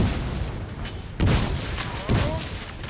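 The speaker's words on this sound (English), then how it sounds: "And they're taking grenade fire." Grenade explosions on a Total War battlefield, two heavy booming blasts about a second apart over a constant rumble of distant musket fire, with a voice faintly present.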